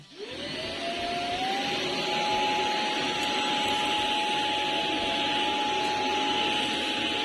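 A Proscenic P11 vacuum cleaner with a soft brush runs over a short-pile rug, its motor spinning up to a steady loud whine and holding a constant close roar throughout.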